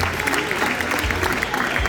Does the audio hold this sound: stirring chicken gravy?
no